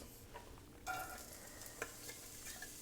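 Onions dropped into hot, shimmering olive oil in a soup pot sizzle and fry steadily, with a few brief stirring clicks and crackles over a low, continuous hiss; no one talks.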